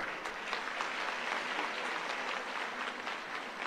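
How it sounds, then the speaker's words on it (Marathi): A crowd at a Nanded political rally applauds loudly and steadily, a dense wash of many hands clapping at once that holds its energy for several seconds without pause. "जोरदार टाळ्या त्यांच्यासाठी या ठिकाणी झाल्या पाहिजेत, अजून जोरदार झाल्या पाहिजेत."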